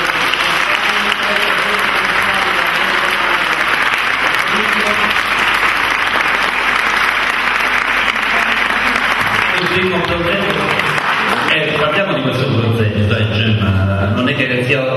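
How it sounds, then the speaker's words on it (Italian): Award ceremony audience at the Premio Sila 49 finalist presentation breaks into loud, sustained applause filling the hall for about ten seconds, then thins out as voices and scattered claps take over near the end. "Un applauso."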